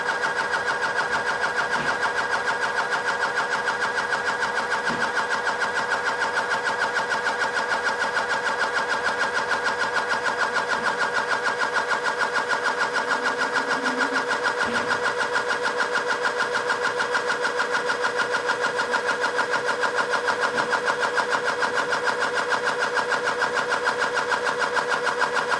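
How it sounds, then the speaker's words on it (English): A Wally Box III pressure loop calibrator pump runs steadily while pressurizing toward a preset 300 psi, a continuous loud mechanical drone with no pauses and only faint ticks. "The pump has already been preset to stop at 300 psi."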